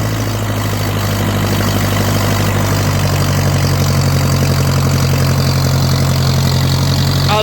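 A Ferguson tractor engine, likely a 9N, 2N or 8N model, idles steadily with a deep, growling low rumble that stays close and continuous throughout, with no talking over it.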